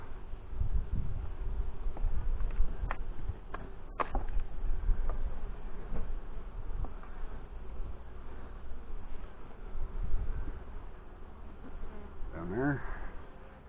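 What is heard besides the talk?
honey bees buzzing in swarm hive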